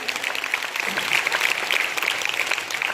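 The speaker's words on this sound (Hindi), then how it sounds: "बहुत जोरदार तालियां ईश्वर जी के लिए।" Sustained audience applause at a motivational education seminar, steady dense clapping filling the room throughout without talk.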